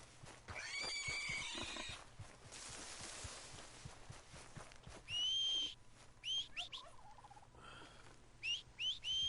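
A horse in Red Dead Redemption 2 whinnies and neighs several times amid game ambience, shrill calls that come in short bursts, mostly in the second half.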